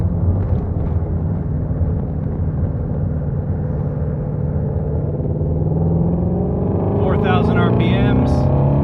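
A Ford GT350 engine revving in second gear, a loud steady low drone that climbs in pitch toward the end, with someone talking over it.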